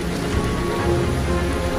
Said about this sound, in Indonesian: Hujan semakin deras, takutnya air segera meluap.